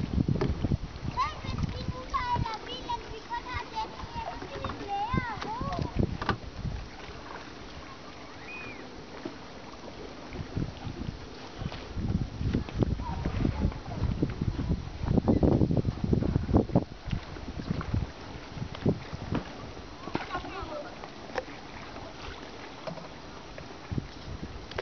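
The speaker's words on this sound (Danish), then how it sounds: "Vi sejler frem og tilbage." Children row a small rowboat back and forth on open water, with oar splashes and water sounds under frequent chatter from kids and an adult, plus light wind noise on the microphone.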